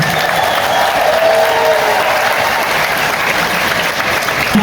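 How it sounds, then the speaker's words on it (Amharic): Loud, sustained applause from a large crowd, steady clapping filling the space from start to finish. "ተመርቃችኋል። አጨብጭቡላችሁ።"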